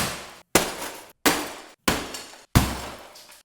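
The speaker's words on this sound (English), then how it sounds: "smashing glass bottles," Glass bottles smash in a sound effect sample, four or five separate loud crashes spaced about half a second to a second apart, each a sharp shattering burst that trails off into tinkling before brief silence.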